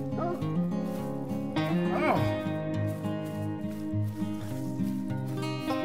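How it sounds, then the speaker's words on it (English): A hunting dog barking in Te Awaroa National Park during a red deer hunt, a few sharp yips scattered across the stretch, mid-distance under steady music or background sound. "Looks like Charlie's barking at something else"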